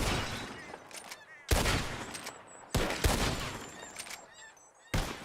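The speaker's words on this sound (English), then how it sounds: "The one who shoots the most bottles wins." Gunshots in the Red Dead Redemption 2 video game during a bottle-shooting contest: three loud, sharp cracks spaced about a second or more apart, each trailing into a reverberant tail with faint ambient sounds between.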